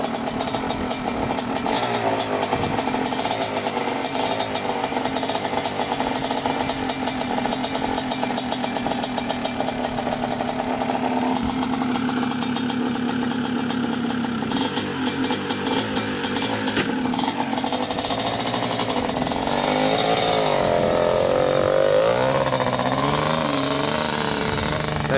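A smoky Kawasaki Tecate 250cc two-stroke engine runs loud and steady for the whole stretch, its revving pitch shifting as the machine rides off, with no talk over it.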